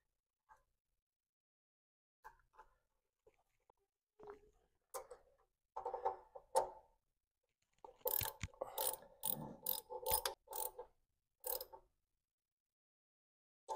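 A ratchet tightens a part on a Cub Cadet 129 garden tractor, giving short bursts of close clicking in several separate runs with quiet gaps between them.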